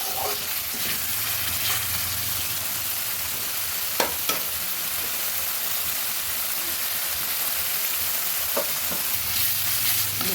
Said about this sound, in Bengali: মশলাটা ভালো মতো ভেজে নিচ্ছি